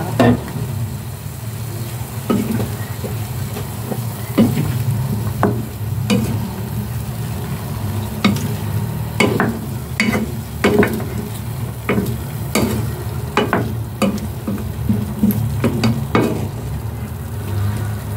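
Coconut milk is poured and stirred into papaya, string beans and sardines cooking in a pan: a loud, continuous sizzle punctuated by repeated sharp clinks and scrapes of a utensil against the pan.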